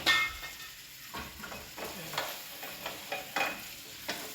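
Chicken liver frying in virgin olive oil in a pan, a soft steady sizzle broken by repeated scraping and stirring clatters, close and fairly quiet, with no talking.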